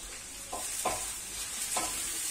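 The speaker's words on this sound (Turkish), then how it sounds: "Biberlerim biraz potelensin." Peppers sauté in a pan for a Turkish sac tava dish, with a soft, steady sizzle and a few quick stirring scrapes over it.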